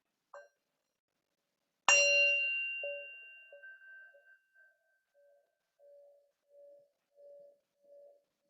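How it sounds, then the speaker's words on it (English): A single bell struck at the start of a chair yoga practice rings out clearly in a quiet room, its bright tone decaying slowly, followed by faint soft pulsing tones fading away. "let's take in the sound of the bell"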